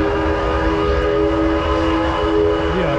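A mini mine train ride at a Six Flags amusement park: steady loud mechanical rumble and droning wheel noise with sustained tonal whine, continuous throughout with no talk.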